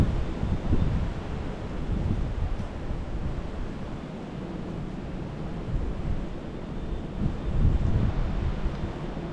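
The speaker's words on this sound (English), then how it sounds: "You can hear the sound of the gust." Strong wind roars steadily in broad noisy gusts over 45 km/h during a heavy Canadian snowstorm, buffeting the microphone with deep rumbling swells that rise and fall throughout.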